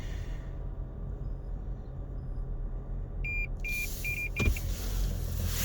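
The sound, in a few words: car warning beep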